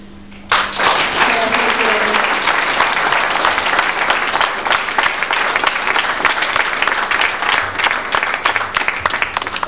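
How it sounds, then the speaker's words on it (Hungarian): A crowd at a photo exhibition opening in a castle breaks into loud applause after a brief quiet moment, a full, continuous burst of clapping that stays strong to the end. "mindenkinek egy hatalmas nagy tapsot"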